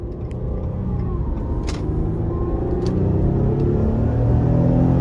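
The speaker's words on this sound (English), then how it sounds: "this V6 is pretty powerful. And with it not being turbocharged or anything like that, you can just put your foot down" A 2012 Ford Escape Limited with a naturally aspirated 3.0 V6 pulls under hard throttle, a steady low engine drone swelling gradually louder as the SUV accelerates, heard from inside the cabin with no talking.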